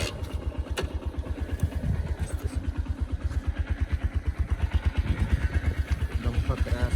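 A TVS 125cc motorcycle engine runs at idle, making a fast, even putter of regular exhaust pulses that stays at a moderate level throughout.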